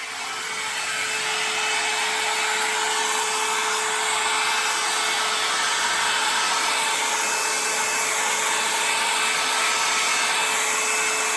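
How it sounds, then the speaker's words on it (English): A heat gun blows hot air over poured acrylic resin on a 12 x 12 inch wood panel, a continuous loud, close fan roar with a whining tone that stays constant after a brief start. "now I'm going to use my heat gun just to warm up this resin a little bit"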